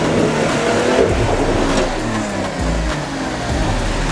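An off-road vehicle climbs a boulder-strewn riverbed in Armenia, its engine revving hard and close, the pitch surging and dropping as it strains over rocks, with no voices.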